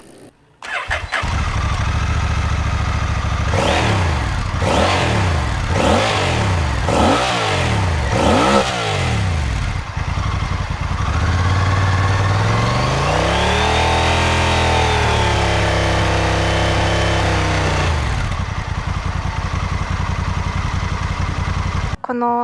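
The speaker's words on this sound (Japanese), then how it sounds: "エンジン特有のデュルデュル感っていうのが伝わりましたかね" A Honda HAWK11 motorcycle engine cranks several times in a rhythmic series, catches and fires up, revs and rises in pitch, then settles into a loud, steady idle up close.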